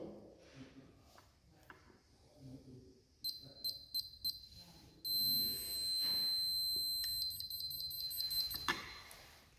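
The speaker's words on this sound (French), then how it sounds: "La centrale a émis des bips discontinus" Short high-pitched electronic beeps from a Teleco control unit come in a quick series, then longer broken tones, with a voice talking quietly underneath.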